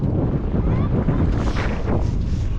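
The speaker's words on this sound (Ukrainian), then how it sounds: "Вітер дує" Loud, blustery wind over a city lake in Ivano-Frankivsk, where people are ice skating, roars and buffets the microphone continuously, with faint indistinct sounds beneath the gusts.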